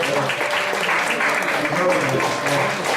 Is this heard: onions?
no